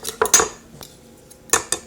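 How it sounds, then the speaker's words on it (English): A metal spoon clinks and scrapes against a bowl while stirring mustard and egg yolk, several sharp taps in a short burst, then a pause, then another pair of clinks. "Stir, stir, stir, stir."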